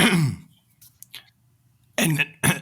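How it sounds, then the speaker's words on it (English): A rough cough at the start, then a quiet gap before two harsh coughs in quick succession, close to the mic. "I'm coughing my guts out here."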